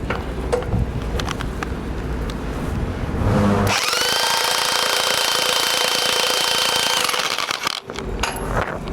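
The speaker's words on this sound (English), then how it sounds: "Operating the impact wrench, I will also keep an eye on the DTI, again compressing it to the proper gap." An impact wrench tensions a bolt and nut against a DTI washer on steel, starting with rattling handling noise and then a loud steady hammering run of about three and a half seconds that cuts off sharply.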